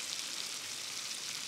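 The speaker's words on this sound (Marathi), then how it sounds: "त्यामध्ये लसूणीची पेस्ट, हे छान परतून घ्यायचं." Garlic paste sautéing in a pot with cumin for a one-pot palak paneer biryani, a soft continuous sizzle heard alone for a moment.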